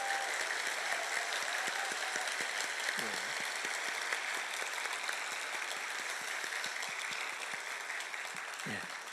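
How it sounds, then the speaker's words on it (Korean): A church congregation claps warmly to welcome a pastor during a Sunday service, steady dense applause filling the room throughout and fading slightly at the end, with occasional voices underneath. "우리 연 목사님 일어나실 때 뜨거운 박수로 우리 환호하면서 격려 한번 하십시다"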